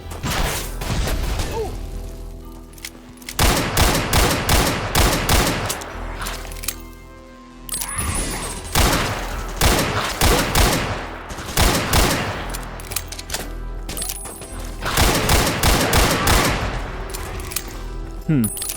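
Loud weapon fire from the Ashes: Afterglow shooter game comes in repeated heavy bursts of rapid shots and booms, broken by brief pauses, with a voice talking at times.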